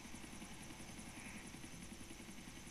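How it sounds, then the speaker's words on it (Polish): Helicopter flying in the video game GTA 4, a steady droning rotor whir with a constant rhythmic chop underneath, even and unbroken from start to finish. "teraz muszę ogarnąć ten helikopter"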